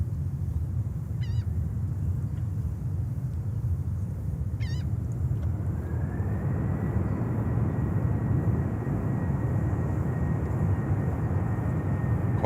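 A jet airliner landing at JFK Airport in a crosswind gives a steady, broad engine roar throughout, with a rising whine joining midway and faint high chirps early on.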